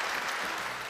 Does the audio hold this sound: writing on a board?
no